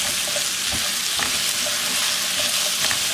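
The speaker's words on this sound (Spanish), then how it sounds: "Y las vamos a dejar que se frían muy bien a fuego medio" Diced potatoes frying in oil over medium heat, a dense continuous sizzle with crackling pops and occasional stirring scrapes, loud and close, no voices.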